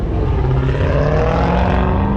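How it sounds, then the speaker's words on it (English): A racing car passes close by at a supercar gathering, its loud engine a continuous droning roar that holds steady and fills the short moment. "Look, there's that racing car."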